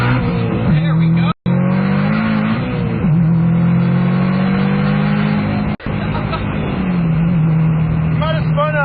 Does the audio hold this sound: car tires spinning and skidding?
yes